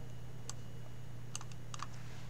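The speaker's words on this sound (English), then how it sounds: "Hit enter on the keyboard." A few faint computer keyboard key presses, a single click then a short cluster of taps, over a steady low electrical hum during a Dell Latitude 5511 BIOS repair.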